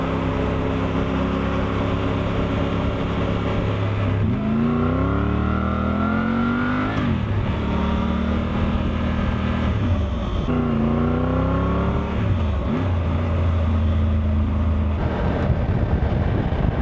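A 2024 Triumph Tiger 900 GT motorcycle fitted with a GIVI windscreen riding on the road, its engine droning steadily and rising and falling in pitch through several gear changes under constant wind noise, with no talking.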